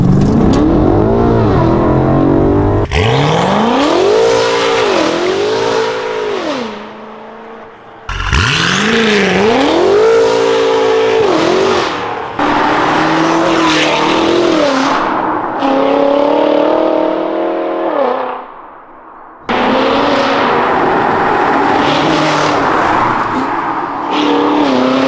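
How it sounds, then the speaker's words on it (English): A powerful BMW M5 engine with an FI aftermarket exhaust revs hard again and again in long rising-and-falling bursts, loud and close, with brief drops between revs. "what you think about the FI exhaust."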